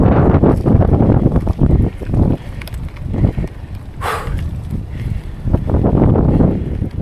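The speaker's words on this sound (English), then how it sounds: "A little windy, but it's not too bad in the woods." Wind moves through the woods on a trail along the Massanutten Ring, heavy low buffeting against the microphone that surges and eases over several seconds, with no voices.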